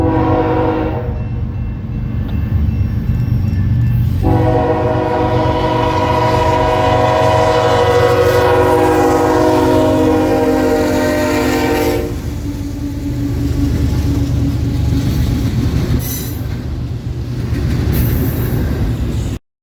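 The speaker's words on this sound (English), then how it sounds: "the train would roll onto CSX trackage to continue its journey east" A heavy freight train rumbles past up close, a steady loud roar of engines and rolling cars with shifting metallic tones, continuing for the whole stretch.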